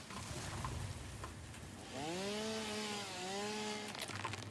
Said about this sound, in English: I can use that 4 biofuel with my chainsaw.